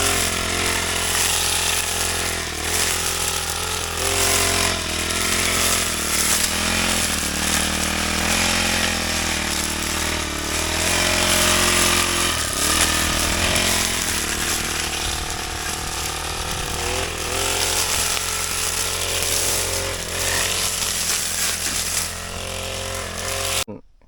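A four-stroke brush cutter engine runs continuously at high revs with a loud, buzzing drone that rises and dips slightly throughout, with no talking.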